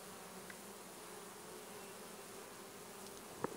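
A Buckfast honeybee buzzes steadily in the background at a hive, a low continuous drone with a faint click near the end.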